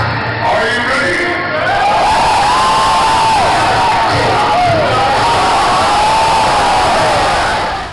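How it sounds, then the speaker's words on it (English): Comic-Con 2010 crowd cheering at a Street Fighter panel, a loud, continuous roar of many voices with whoops and shouts sustained throughout, close and dense. "The crowd went absolutely wild over this."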